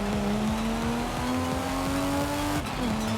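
A Jaguar E-Type's engine drones steadily in Forza Horizon 5, one sustained tone climbing gradually, then dipping sharply near the end as if shifting gear, loud and close with no talking.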